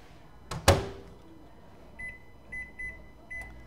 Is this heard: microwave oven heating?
yes